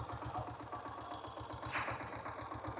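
A diesel Royal Enfield Bullet motorcycle idles after a morning start, its single cylinder thumping in a steady, even rhythm close by at low volume with no talk.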